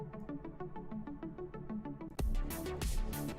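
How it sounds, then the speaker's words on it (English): A slow synthwave track plays back, a steady pulsing synth pattern that leaps into a fuller, louder section with heavy drum hits and bright washes partway through, with no voices over it. "It's more of a synthwave track"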